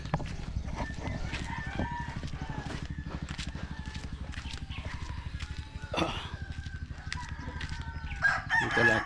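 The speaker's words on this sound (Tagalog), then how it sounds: "ang daming manok diyan oh" A crowd of chickens and fighting roosters makes steady overlapping clucks and several crows, with rapid rhythmic clip-clop-like pulses underneath and a brief louder burst near the end.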